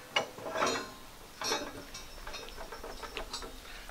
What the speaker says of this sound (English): This carriage slides right into the hitch.